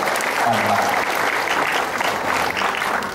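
An audience at a Kangen Water demonstration in Bekasi claps steadily and loudly for a few seconds, a dense sustained round of applause.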